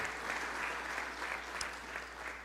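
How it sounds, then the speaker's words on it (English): An audience at a Fresno city council meeting gives sustained applause, a dense steady wash of clapping from many hands filling the room throughout. "Give a round of applause."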